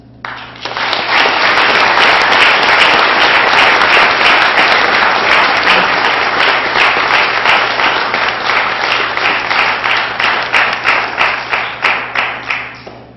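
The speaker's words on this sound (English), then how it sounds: "you can give him thunderous applause for his effort" Thunderous applause from the audience at a spelling bee rises abruptly and stays loud and dense for several seconds, then thins toward the end into a few distinct, separate claps fading out.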